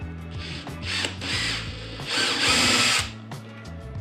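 A power drill whirs in several short bursts close by, revving up and down, with one longer grinding run into a cabinet as it drills a hole.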